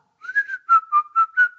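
A person whistles a short snippet of a tune, a handful of clear, bright notes in quick succession, heard alone and fairly close.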